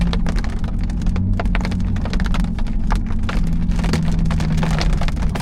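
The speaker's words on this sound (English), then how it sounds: "It's raining" Steady rain drums on the roof and body of a parked modified C8 Corvette, a dense continuous patter of drops close by, with a low rumble underneath and no talking.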